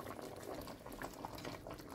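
Okra sauce, kalalou gombo, boiling down in a pot makes a soft, faint bubbling simmer with small pops and light liquid burbles, continuous and without talk.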